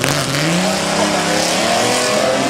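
A 1950 2-litre Barchetta race car drives up the hill at the Goodwood Festival of Speed, its engine loud, steady and close, with a rising tone through the short stretch.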